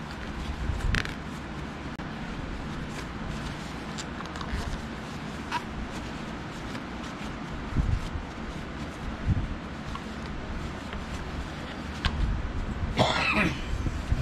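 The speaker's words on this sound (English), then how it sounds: "Y'all know me and my cough," A single short cough near the end, following a stretch of quiet handling noises and faint rustling outdoors during maintenance of a Shakespeare Tiger fishing reel.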